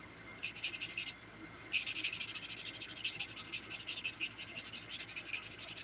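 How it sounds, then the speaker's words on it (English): Close, quiet rhythmic buffing of a fingernail with a nail buffer, a steady back-and-forth scratchy rubbing that pauses briefly after a first burst, then continues in quick even strokes. "let me buff this"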